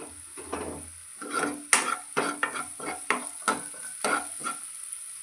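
Onion with a pinch of salt is sautéed over low heat in a pan, a series of sharp scraping strokes of the spoon at a steady rhythm over a light sizzle, fairly close and quiet.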